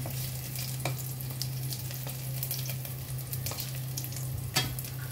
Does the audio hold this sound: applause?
no